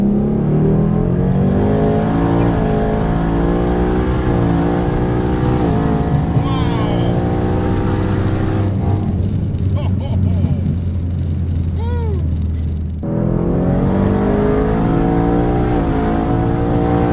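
A Dodge Demon 170 pulls hard on the highway, its engine note loud and rising in steady sweeps, then dipping briefly before climbing again, close up throughout.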